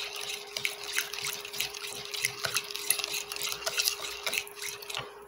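Bread dough for a soft milk loaf, made with oil, is stirred in a bowl, giving a continuous wet, sticky scraping and squelching with irregular soft clicks throughout.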